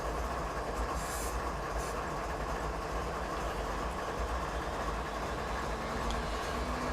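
A CP Rail train rolls westbound toward Field on a winter night in Train Simulator 2019, a steady loud rumble and rattle of wheels and cars with a brief hiss, continuous and close.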